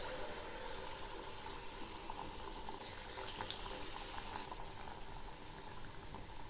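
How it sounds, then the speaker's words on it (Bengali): Malpua batter dropped into hot oil for Bengali pitha, a steady close bubbling and frying hiss that runs evenly throughout with small crackles, no talking. "তেল গরম হয়েছে। এখন আমি ছেড়ে দিচ্ছি পিঠাগুলো।"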